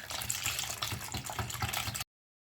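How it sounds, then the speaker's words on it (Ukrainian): Milk poured into a bowl of egg, sugar, vanilla sugar and salt for a thin pancake batter, a steady liquid pour and stirring heard close and continuous for about two seconds, with no talk. "Вливаю молоко і ще раз перемішаю."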